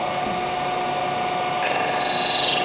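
A lathe with a boring tool brought to touch the inside of a hole, giving a steady, loud machine whine and hum with a slight high-pitched scraping change near the end.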